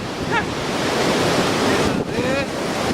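Very strong wind buffets the microphone at a hilltop summit, a loud continuous roar that fills the whole clip, with a couple of faint whistling tones showing through.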